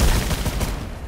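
Guns fire in the video game PlayStation VR Worlds Scavengers Odyssey in a brief, dense, loud burst of rapid shots.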